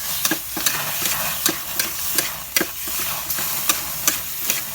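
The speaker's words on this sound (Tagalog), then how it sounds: "Kaya magluto ng ginisa, pinapaapoy." Food sautés in a hot pan with a continuous sizzle, while a utensil scrapes and stirs in a loose, repeated rhythm of sharp strokes up close.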